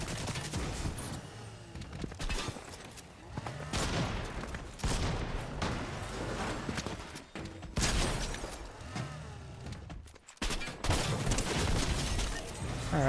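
Rapid bursts of video game gunfire fill a Fortnite Zero Build match, dense volleys and repeated shots running almost without pause at steady loudness.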